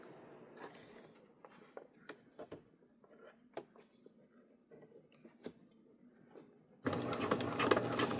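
A sewing machine stitches a 1/4 inch basting seam on fabric for a mini credit card wallet, producing faint, soft mechanical ticks and taps before a louder, steady whirring run near the end.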